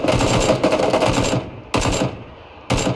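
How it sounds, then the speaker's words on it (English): Machine gun fire in PUBG, with three sustained automatic bursts separated by short pauses, sharp and loud with no talking. "Someone else is shooting at him."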